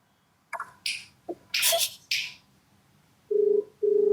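A phone call on speakerphone: after a few short clicks and rustles, two steady ringback tones sound close and clear.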